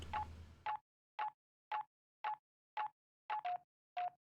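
In Simulacra 3, a phone dials out: a short burst of noise gives way to eight crisp dialing tones, evenly spaced about half a second apart, the last two closer together, clean and isolated against silence.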